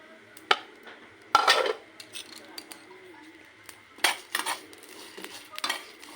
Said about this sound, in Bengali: ওটাকে আমি অনর্গল নেড়ে এটাকে ভেজে নেব।